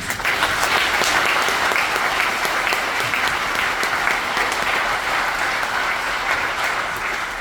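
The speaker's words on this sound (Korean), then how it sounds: "여기 계신 모든 어르신들과 지금까지 대한민국을 만든 그런 분들께 우리가 박수를 한번 했으면 좋겠습니다" A large forum audience applauds steadily, thick even clapping sustained throughout without a break, loud and close.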